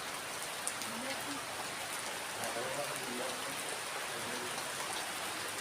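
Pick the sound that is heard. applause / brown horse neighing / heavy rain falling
heavy rain falling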